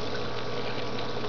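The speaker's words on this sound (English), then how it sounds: "The water trickles, you know, like 4 inches to the bioballs." Water trickles a few inches down onto bioballs in a DIY wet-dry aquarium sump refugium, making a steady, close bubbling splash with no break.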